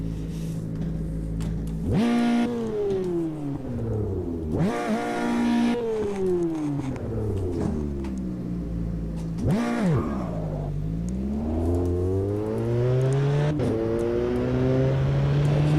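A race car engine in the racing video game Automobilista 2 revs hard and steadily, pitch climbing and dropping sharply as gears shift, loud and continuous with no voices.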